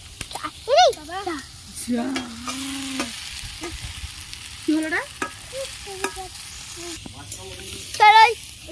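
Ingredients cooking in a wok: a low, continuous sizzle and stirring noise running under frequent nearby voices talking.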